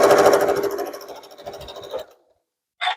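Sewing machine stitching quilt pieces: a fast, close mechanical whirr with a rapid needle rhythm that slows and stops after about two seconds, followed by a short, faint, brief click or rustle.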